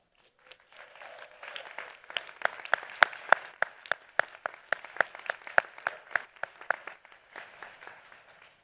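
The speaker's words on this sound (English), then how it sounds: "Let's give your family and friends and chosen families a round of applause" Commencement audience applauding families and friends, a round of clapping that builds quickly, holds with distinct sharp claps near the front, then thins and fades out toward the end.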